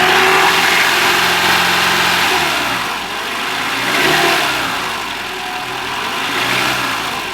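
A 2017 Toyota Camry with the 2.5 engine runs steadily near the microphone, a smooth, continuous hum that swells and eases gently a couple of times as if lightly revved, with no talk over it.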